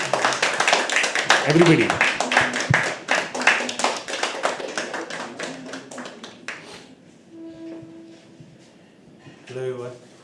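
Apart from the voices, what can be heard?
audience clapping as poet comes on stage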